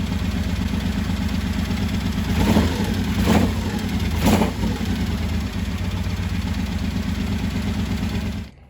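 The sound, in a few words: 1985 Honda VT1100 Shadow motorcycle engine revving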